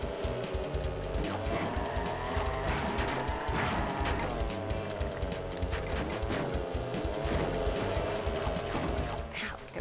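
Karts ramming and crunching into each other in Crash Team Racing, a dense, continuous clatter of repeated bumps and metallic knocks over game music, loud throughout with no talk.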